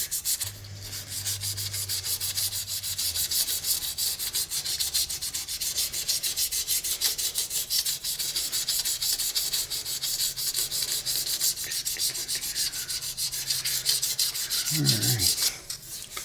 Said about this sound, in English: we want to come back in and sand with the green